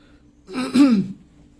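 A single close throat clearing, a short voiced rasp that rises and falls, with quiet room tone before and after.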